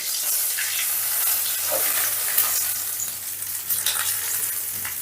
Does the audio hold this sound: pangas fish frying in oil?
yes